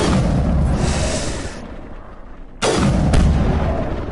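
Sniper gunfire in the video game Mass Effect: a sustained loud burst of rumbling fire, a brief lull, then a sharp loud crack followed by another snap, with no talking.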